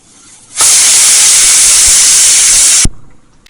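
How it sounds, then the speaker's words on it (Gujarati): A pressure cooker of dal with turmeric, salt and cooking oil on a full gas flame lets out one loud, continuous steam hiss that starts abruptly, holds steady for about two seconds and cuts off sharply, with no voices. "બંધ કરી ફૂલ ગેસ ઉપર 3 સીટી।"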